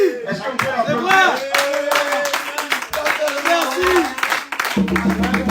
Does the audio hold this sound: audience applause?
yes